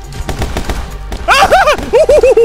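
Rapid gunfire from the video game My Friend Pedro, a burst of clattering shots early on followed by loud shouting over further sharp reports.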